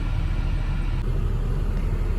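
A car engine idles steadily while the car defrosts on a cold winter morning, a low, continuous rumble close by with no voices over it.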